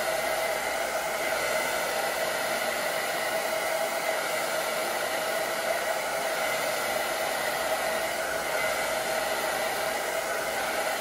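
Handheld hair dryer blowing steadily and continuously at close range while an older woman's hair is styled section by section, a constant airy whoosh with no pauses or talk.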